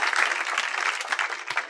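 A comedy club crowd at a stand-up show claps in a short, brisk burst of applause, close and fairly loud, lasting under two seconds.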